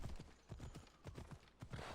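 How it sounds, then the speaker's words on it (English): Hooves of a slow, plodding horse in a video game clop in a steady walking rhythm, about two hoofbeats every half second, close and moderately loud with nothing else over them. "the horse is really dragging its feet"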